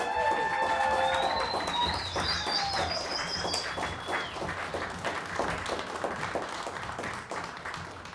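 Students at a Poetry Out Loud event in Alaska receive applause from the audience, a steady crowd clapping that sits under a few faint whistly chirps.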